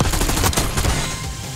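Loud, close automatic gunfire from the shooter game Black Ops 6, a dense rattle of rapid shots that runs throughout and eases slightly toward the end.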